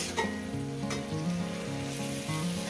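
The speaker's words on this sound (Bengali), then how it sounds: "এবার আমি শুধু এটা ভাজা ভাজবো" Bitter gourd and pumpkin slices fry in hot oil, giving a steady close sizzle with soft stirring scrapes throughout and no voices.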